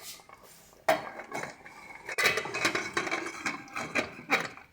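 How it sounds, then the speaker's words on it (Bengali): A pressure cooker lid being fitted and locked over mutton with water, heard as close metallic clanks, scrapes and clicks of metal on metal in irregular bursts, with no voices. "চলো এবার এটাকে আমরা প্রেশার কুকারের ঢাকনাটা আটকে দিই।"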